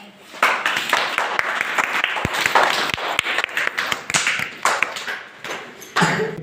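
A crowd applauds at a school science fair with sustained, dense clapping from many people that runs nearly the whole time, with a few sharper individual claps standing out and a fresh burst near the end.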